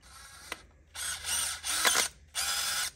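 A ratchet works to start a bolt in three or four short bursts of quick clicking, close and fairly quiet, with a small knock just before them.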